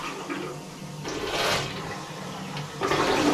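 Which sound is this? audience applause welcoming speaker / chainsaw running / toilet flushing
toilet flushing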